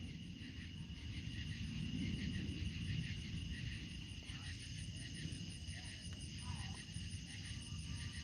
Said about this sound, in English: Crickets and frogs.